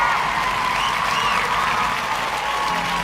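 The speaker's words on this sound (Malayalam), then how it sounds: "മാക്സിമം ഒച്ചത്തില് കൈയടിച്ച് നമ്മുടെ സ്നേഹം ഒന്ന് അറിയിച്ചാലോ?" A large fan audience claps loudly and continuously at a Dulquer film release event, a dense, steady wall of applause with faint crowd voices mixed in.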